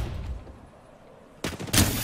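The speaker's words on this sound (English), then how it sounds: "They spotted me. I'm taking shots." Gunfire in an Apex Legends match, a low rumbling battle ambience followed by a sudden loud burst of rapid shots near the end.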